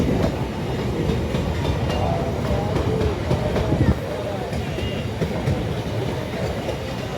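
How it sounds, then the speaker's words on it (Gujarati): A long, heavily loaded freight train rolls past close by, its steady heavy rumble and rhythmic clatter of wagon wheels over rail joints continuing throughout, with some squeal and rattle. "આ માલગાડીની ભરેલી ટ્રેન બહુ લાંબી છે ભાઈ. આખી જમીન હલાવે છે."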